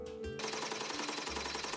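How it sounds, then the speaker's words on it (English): A hammer beats gold leaf in a traditional workshop, striking in a fast, steady rhythm of sharp metallic blows that run continuously and fairly loud, with no talk. "It may look like the hammer is beating the gold leaf to thin it"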